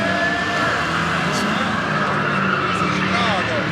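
Custom donk cars on the move at Memphis Raceway, a steady loud wash of engines and road noise with faint tire squeals, heard up close beneath people talking.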